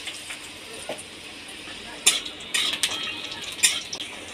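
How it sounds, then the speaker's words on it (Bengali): Bori, spiced lentil dumplings, frying in hot refined oil in a karahi: a steady soft hiss runs throughout, broken by a few louder scraping clinks of a utensil against the pan near the end. "এবার কিছু পরিমাণ বড়ি ভেজে নেব।"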